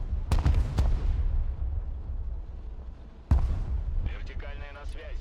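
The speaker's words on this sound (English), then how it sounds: "that's a lot of mortars coming in there" Mortar shells landing in the military strategy game Broken Arrow during a night invasion: loud sharp impacts, two early cracks and a heavy blast later, over a constant rumbling battle din, with voices and radio chatter near the end.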